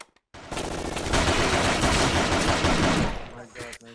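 Sustained automatic gunfire in a competitive online shooter match rattles out loud and close in a dense burst lasting about three seconds, then cuts off abruptly.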